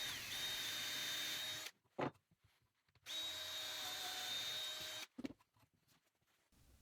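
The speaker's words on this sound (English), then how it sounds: "We're even drilling the mountain hole first." An electric drill whines in two sustained bursts, each ending with a rough crunch of the bit breaking through wood, separated by brief quiet.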